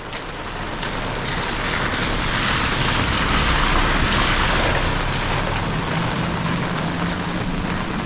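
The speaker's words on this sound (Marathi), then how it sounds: "चला पाऊस आला" Heavy monsoon rain pours down over a Konkan village, a steady, dense hiss that swells slightly and holds loud and unbroken throughout, with no voices.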